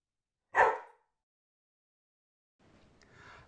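A dog named Sandy gives one sharp, loud bark near the start, followed by silence and then a fainter, rough rustling sound.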